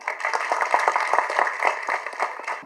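An audience claps steadily for a few seconds: a dense, continuous patter of many hands at moderate loudness, with no voices over it.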